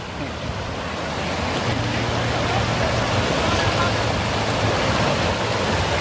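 Water rushes at Tat Ton waterfall in Chaiyaphum, Thailand, on a hot day as a loud, unbroken roar that swells slightly after the first second and holds steady throughout.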